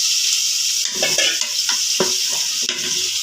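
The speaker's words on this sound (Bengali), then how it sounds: "পেঁয়াজ কষাইতেছি।" Onions sizzle loudly in hot oil with spices for mutton biryani, a steady bright hiss punctuated by repeated scraping stirs of a spoon against the pan, close up.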